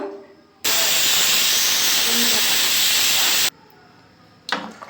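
A pressure cooker holding mutton sambar vents steam in one loud, unbroken hiss of about three seconds, close by, then cuts off sharply and is followed by a brief clatter.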